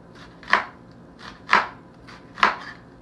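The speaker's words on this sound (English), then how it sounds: "to julienne the onion, you're gonna follow those natural creases of the onion all the way" A knife slices through an onion onto a cutting board in julienne strips, three crisp, evenly spaced chops about a second apart, close and clear over a quiet background.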